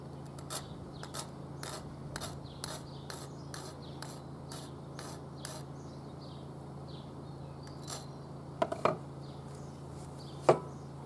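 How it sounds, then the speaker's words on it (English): Rhythmic scraping strokes of a file on copper pipe, about a dozen quick rasps, quiet and close, then a pause and a few louder clicks. "when you use a file it does tend to scratch the copper piping"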